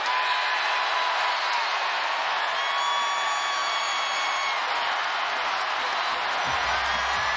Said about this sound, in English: Beckers exhorting again this sold-out crowd to go from loud to louder to loudest